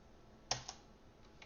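A couple of sharp key clicks from a computer keyboard, a loud tap followed by a softer one, then faint light taps near the end.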